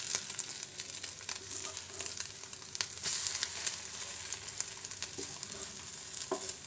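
Bread kanthari toast sizzles steadily in a pan after being flipped, a close, even crackle with light scraping ticks and no voices.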